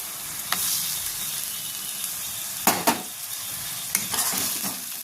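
Onion paste and ginger-garlic paste frying in oil for an egg and cauliflower curry, giving a continuous bright sizzle with several distinct stirring scrapes and clinks against the pan.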